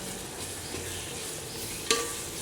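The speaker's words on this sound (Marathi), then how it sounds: "आता ह्यामध्ये मिक्सरला जे वाटण वाटलेलं होतं ते टाकून चांगलं मिक्स करून घेऊया" Steady sizzling in a pan as a spoon stirs ground masala paste into frying onion and tomato, a thick mixture, with one sharp metallic clink near the end; no voices.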